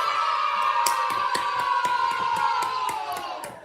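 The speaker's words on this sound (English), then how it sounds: "give a round of applause for the Dread Pirate Rob" A live stage-show audience cheers and whoops loudly, with scattered claps cutting through a steady, dense roar that fades slightly toward the end.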